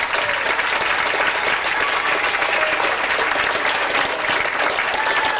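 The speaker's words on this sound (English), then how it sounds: "How about giving them a nice big round of applause?" A crowd applauds musicians at a live Irish traditional music performance, dense clapping from many hands, loud and continuous without letting up.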